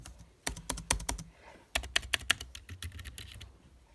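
Laptop keys being typed in two quick bursts of sharp clicks, separated by a brief pause, close and fairly quiet with no talking.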